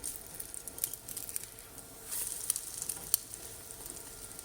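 French toast fries in a hot pan with a steady, soft sizzle and scattered crackles and pops, a brighter burst of spitting partway through; close and moderately quiet, no talking.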